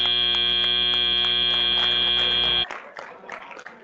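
A loud, steady electronic buzzer ends a match at a First Tech Challenge robotics competition, holding a tone for about two and a half seconds before cutting off to arena crowd noise.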